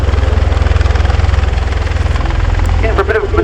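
A USAF Bell Boeing CV-22B Osprey tilt rotor aircraft displays at the RIAT airshow, its loud, pulsing rotor drone thumping steadily and close, with a voice briefly coming in near the end.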